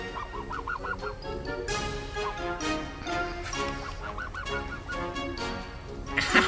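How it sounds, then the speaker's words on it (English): Goose honking loudly and repeatedly up close in short nasal bursts amid scuffling and rustling movement. "Between my head and the goose eating my face."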